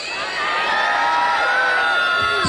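A large crowd at a Punjabi film trailer launch cheers and whoops for the star cast, a sustained, loud wash of shouting voices with high children's yells and no distinct speech.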